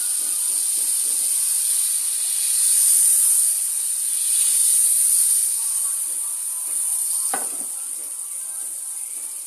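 Oil and butter sizzle steadily in a frying pan, a bright, constant hiss that swells and eases, with faint clicks and a voice low underneath.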